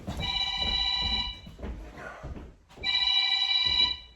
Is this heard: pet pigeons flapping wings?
no